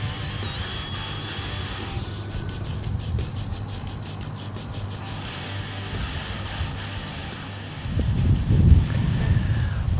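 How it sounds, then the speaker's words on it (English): Wind blows across an open outdoor spot on an evening bowhunt, a steady low rumble and buffeting against the microphone that swells into stronger gusts near the end. "A little bit windy"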